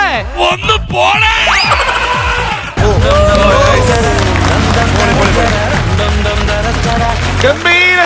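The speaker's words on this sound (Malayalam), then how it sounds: "ഒരു നല്ല കൈയടി." Audience applause after a comedy skit on a stage comedy show, a loud sustained wash of clapping from a large crowd that swells after a brief burst of excited voices and music.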